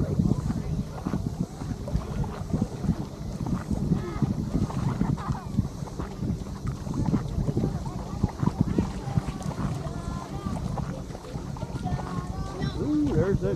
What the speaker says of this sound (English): Wind is kind of gusty.